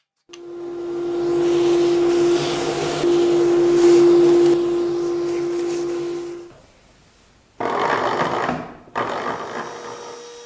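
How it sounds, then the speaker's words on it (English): A power drill bores a cavity into a small hardwood box, a steady loud whirring motor drone held for several seconds, then stopping, followed by two shorter bursts of drilling close by. "Before the glue dries, I am drilling a cavity inside the box."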